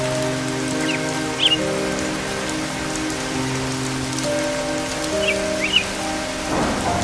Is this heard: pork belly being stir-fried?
no